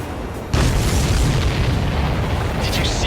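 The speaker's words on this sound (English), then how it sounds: "Did you see that explosion?" A huge explosion bursts after a brief quiet moment as an enemy supply ship is destroyed in the Ace Combat 7 video game, followed by a loud, sustained rumbling roar that fills the rest of the clip.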